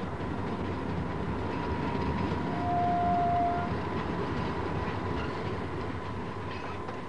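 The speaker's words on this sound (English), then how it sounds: "the cane trains keep rolling" A diesel cane train in Australia rumbles steadily past with a continuous low roar and faint rhythmic wheel clatter, fairly close, with no voices.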